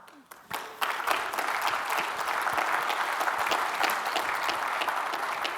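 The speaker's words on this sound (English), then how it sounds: "that applause really should be coming the other direction" Applause from a keynote audience at an electronics design conference, starting with a few isolated claps and swelling into steady, dense clapping that holds for several seconds.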